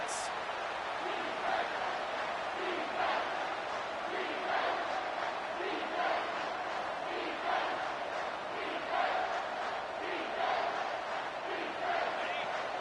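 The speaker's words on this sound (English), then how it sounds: "This crowd knows they have to bring it in big moments" Football stadium crowd roaring steadily through a tense moment of a game, a dense, continuous cheer with rhythmic swells and chant-like pulses, fairly distant, with no voices standing out.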